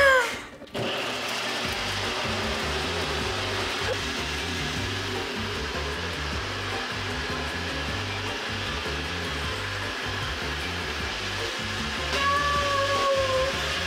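A blender whirs steadily, processing smoothie bowl ingredients in a home kitchen, a loud continuous motor drone with a rhythmic chopping pulse that runs almost the entire time after a brief opening burst.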